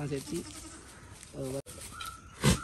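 Boer goats bleat on a farm, with a few short nasal calls from nearby animals, one louder bleat near the end, and people talking in between.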